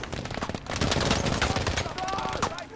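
Rapid video game gunfire, bursts of automatic weapons and overlapping shots in a dense, continuous barrage, with a voice talking over the shooting.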